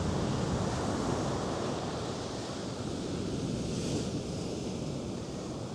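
Winter surf breaking steadily on a New Zealand beach, a continuous loud wash of waves with wind buffeting the microphone throughout.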